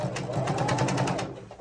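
A sewing machine stitches a gathered maxi skirt in a steady, continuous run of rapid needle strokes, close and fairly loud, with no pauses.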